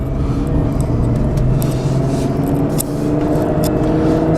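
A car, just through a car wash and not yet driven much, runs at speed on the highway with a steady, loud engine and road rumble throughout, a continuous drone with no talk.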